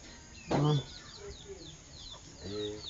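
A hen clucks loudly once near the start, then again more softly near the end, with faint chirping birds in the background.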